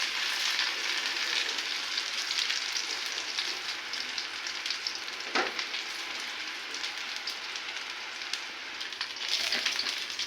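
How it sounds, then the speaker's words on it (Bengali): Onions sizzle in hot oil with bay leaf, cinnamon, cardamom and cloves, a steady close crackling fry for roast cooking with a brief louder burst midway and no talk. "বাদামি কালার না হওয়া পর্যন্ত আমরা অপেক্ষা করব পেঁয়াজ ভাজার জন্য।"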